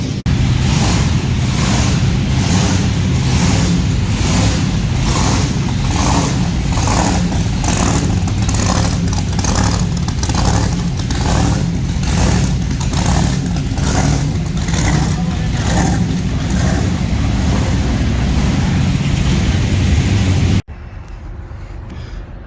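A tow vehicle pulls a trailer on the road home from an indoor nationals event, its engine and road rumble steady and loud for about twenty seconds before cutting off abruptly.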